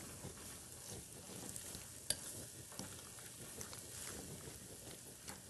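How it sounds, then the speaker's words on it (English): Onions sauteing in margarine in a skillet give a soft, steady sizzle with faint crackles and a few light scrapes of stirring, quiet and close, with no voices. "we're going to saute that a little bit."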